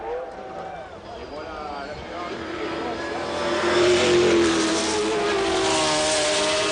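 Ferrari 333 SP prototype race car at the 1995 Le Mans 24 Hours, its engine note rising and revving as it passes, loud and building toward the end, heard over a French commentator's voice.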